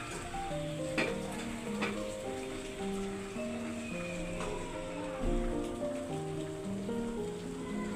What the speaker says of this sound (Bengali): আজকে সারাটা দিন বৃষ্টি পড়ছে